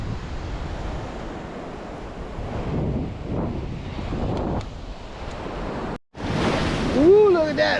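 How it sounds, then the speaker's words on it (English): Ocean surf washes in continuously at a beach in December, loud and near, with heavy wind buffeting the microphone while someone rides a bike along wet sand at the water's edge; a brief cut and a whistling tone come near the end. "I'm riding my bike in the ocean."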